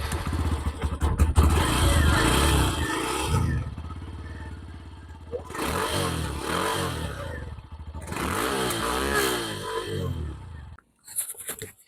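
A Hero Glamour X125 125cc motorcycle exhaust runs in three riding modes: three separate close, loud bursts of engine and exhaust roar revving up and settling, split by short pauses, with no talking over them.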